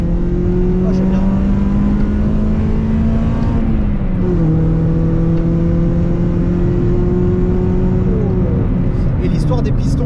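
Loud, steady Toyota Celica engine drone close by, its pitch dipping slightly midway and then holding.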